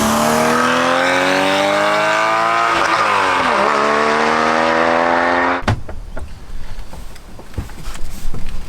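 Porsche Cayman GT4 engine winding up loudly in a sharp rev-matched blip on a downshift while driving, pitch climbing and dipping before cutting off abruptly into quieter road and cabin noise.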